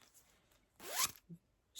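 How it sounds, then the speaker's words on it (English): A zipper on a lined crochet star bag is pulled in one quick, close, crisp zip, followed by a faint tap and the start of another short zip, otherwise quiet. "smoothly functioning zipper"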